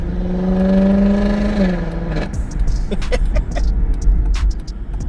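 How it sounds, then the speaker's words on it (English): A turbocharged Dodge Magnum RT engine with a downpipe revs loudly with a rising turbo whine that cuts off sharply, followed by a rough, clattering idle and a few sharp mechanical pops. "You hear the turbos from back here."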